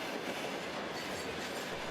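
A Trans-Siberian passenger train rolls past on the rails near Lake Baikal in bitter winter cold, its wheels clattering in a steady, fairly close rhythm with faint squeals and no voices.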